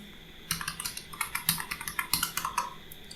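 Rapid keystrokes on a computer keyboard as a student's parent's mobile number is entered into a school records form, a steady run of crisp clicks close to the mic with no talking.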